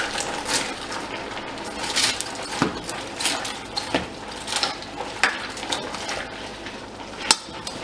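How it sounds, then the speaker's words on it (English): Spoon scraping and clinking against a pot of cabbage soup being stirred, with irregular close metallic knocks and a soft wet churn beneath, no talking. "So I'm going to stir that up so that I can get to the bottom."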